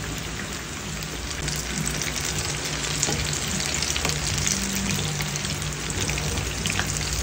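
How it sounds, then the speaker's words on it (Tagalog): Eggplant fries in hot oil in a pan, giving a dense, even, rain-like sizzle that holds steady and close throughout, with no talking. "nilagay ko na yung ating talong. Prituhin na muna natin itong lahat."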